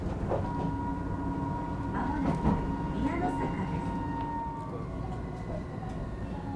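A slow electric train on Tokyo's Setagaya Line rolls by with a low rumble, squealing wheels and clanking rail joints, a voice speaking faintly underneath.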